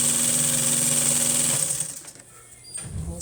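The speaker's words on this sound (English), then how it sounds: "As soon as I finish sewing this" A sewing machine stitches chair upholstery in a fast, even whir for about a second and a half, then stops and leaves faint handling noise.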